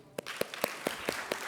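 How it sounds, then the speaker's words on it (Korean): Claps in a church youth service, about six sharp strikes spaced evenly, fairly close and moderately loud, with no talk over them. "박수."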